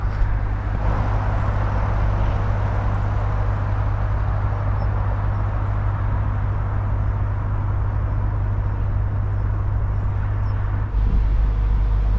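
A continuous low roar of traffic on the A1 road hangs in the distance, a steady broadband wash with a deep rumble and no single vehicle standing out.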